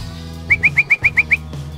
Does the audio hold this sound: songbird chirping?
yes